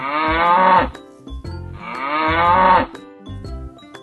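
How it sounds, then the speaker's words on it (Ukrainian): Two long, loud cow moos, one after another with a short pause between, deep and drawn-out with no voices. "Корови п'ють дуже багато води спілкуються між собою за допомогою мукання."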